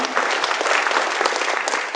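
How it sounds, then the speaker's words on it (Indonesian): Lively audience applause at a business presentation in Jakarta: a dense, continuous patter of many hands clapping at fairly close range for about two seconds, with no talk over it. "Tepuk tangan untuk Bapak Ibu semua, ya."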